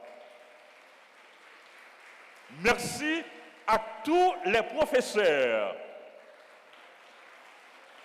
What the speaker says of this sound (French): Nous les applaudissons également.